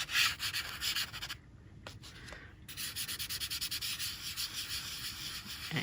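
Soft pastel rubbed back and forth across paper while shading a sunset background, making a close, quiet, rhythmic scratchy rasp with a brief pause partway through.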